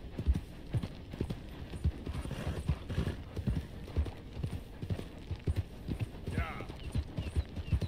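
Horse hooves clip-clop in a steady galloping rhythm in Red Dead Redemption 2, close and moderately loud, with a brief whinny near the end and someone talking over the hoofbeats.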